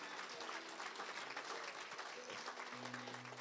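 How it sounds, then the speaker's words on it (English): Church congregation applauding during a Sunday service, a steady wash of many hands clapping at moderate volume with a low hum underneath. "Let's give the Lord a round of applause."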